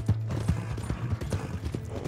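Horse hooves clip-clopping in a steady galloping rhythm while riding in Red Dead Online, close and clear with faint background sounds.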